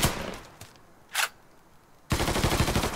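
Gunfire in the video game Mafia III: a sustained, loud burst of rapid machine-gun fire erupts near the end, after a quieter stretch with a brief single blast in the middle.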